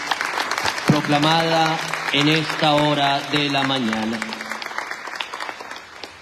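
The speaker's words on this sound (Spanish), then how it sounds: "Démosle un fuerte aplauso a la palabra de Dios" A church congregation at Mass claps steadily after the Gospel reading, a dense patter running beneath and after someone speaking into a microphone.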